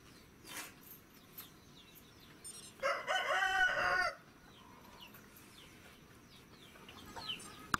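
Chickens cluck and a rooster crows loudly for about a second in the middle, at a rural poultry-rearing household in Gulbarga, with faint bird calls around.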